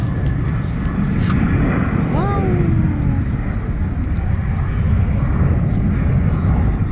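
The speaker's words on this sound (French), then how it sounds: "on est à côté, il y a un avion là." Airplane near Marrakech airport at Menara droning loudly as a broad, steady rumble that fills the scene, with a person giving a short exclamation partway through.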